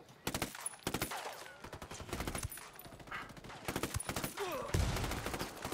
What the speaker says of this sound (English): Oh, I'm being shot from the left there.